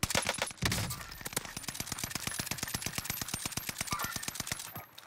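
Rapid automatic gunfire in the video game Warzone, a steady run of evenly spaced shots after an opening burst, loud and continuous for several seconds.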